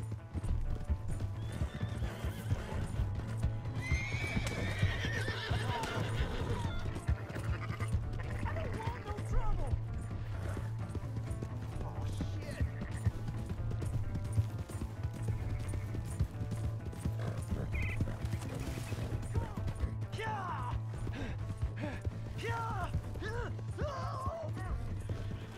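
Horse hooves clip-clop steadily in Red Dead Redemption 2, with several loud neighs and whinnies breaking through, while game voices talk over the galloping and faint creaking tack sounds.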